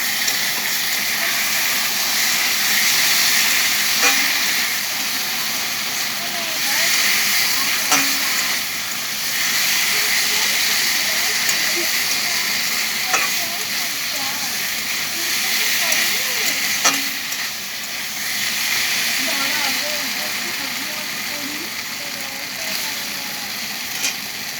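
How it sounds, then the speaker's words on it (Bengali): Spices fry in a pan with a steady, close sizzling hiss lasting throughout, broken by occasional light scrapes and clicks of stirring. "দেখুন বন্ধুরা, আমার মশলাটা ভাজা ভাজা হয়ে গেছে"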